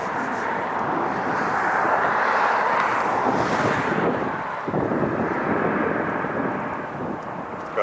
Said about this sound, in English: Got that nice afternoon wind coming in.